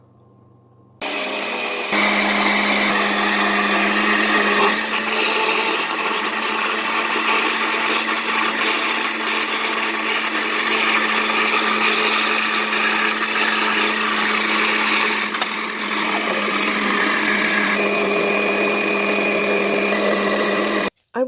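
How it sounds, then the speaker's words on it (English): A blender whirs steadily, close and loud, as it purées oats and water for homemade oat yogurt, running continuously for nearly twenty seconds after a short quiet start. "I want the consistency to be really creamy, and so I've probably blended this a couple of minutes"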